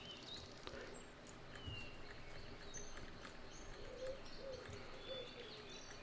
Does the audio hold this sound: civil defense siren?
no